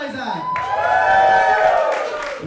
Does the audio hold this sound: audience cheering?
yes